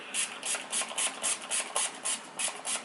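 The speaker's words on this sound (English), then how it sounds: "I'm going to spray" Repeated bursts of a spray bottle hissing out mist in a steady rhythm, about a dozen close, crisp sprays.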